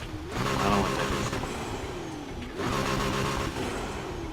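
Car engines rev loudly in the racing game Need for Speed Heat, with a Ferrari 488 GTB race build nearby: two sustained surges of rising engine tone, each starting abruptly and holding steady, with no talking over them.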